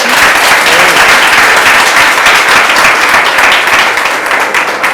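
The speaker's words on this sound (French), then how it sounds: "Je vous demande de vous applaudir très très très fort." Loud, sustained applause from a large crowd, dense clapping that carries on steadily without a break.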